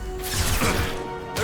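A concussive shot ability fires in Mass Effect Legendary Edition, a loud broadband blast with a crashing, whooshing body lasting about a second, followed by a brief sharp burst near the end, with no talk over it.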